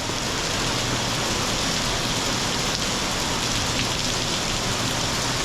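Steady, dense rain pattering on city street pavement in Macau, a constant hiss with no pauses and no voices.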